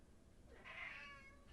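A pet cat gives a single short meow close by, soft and brief, rising out of a quiet room.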